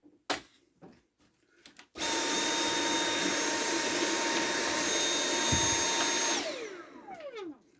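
A vacuum cleaner starts abruptly after a few clicks and knocks, then runs with a loud, steady roar for several seconds while dust is cleaned from a computer rig, before winding down with a falling whine.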